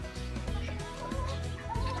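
Chickens cluck on a family homestead at feeding time, a steady run of hen calls and chatter close by with farmyard noise underneath.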